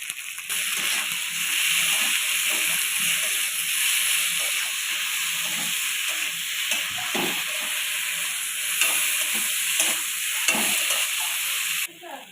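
Snakehead fish sautés village-style in a pan with turmeric, salt and a chili, cumin and coriander paste, giving a loud, steady sizzle and hiss broken by repeated scraping stirs, then cutting off abruptly.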